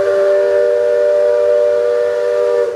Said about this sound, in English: you just heard the steam whistle from the Liberty Bell, circumnavigating the rivers of America